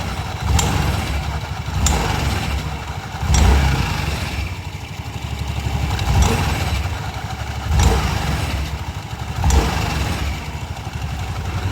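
A Yamaha Fazzio scooter engine idles and revs up repeatedly, jerking on acceleration, with a loud close rumble swelling in roughly regular bursts every couple of seconds and no voices.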